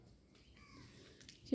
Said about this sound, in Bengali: এই পাখির ডাকটা শুনলাম